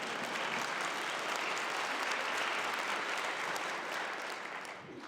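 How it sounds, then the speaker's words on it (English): Audience at a food and culture talk breaks into continuous applause, an even wash of clapping that holds steady before tapering slightly at the end. "You can applaud for that."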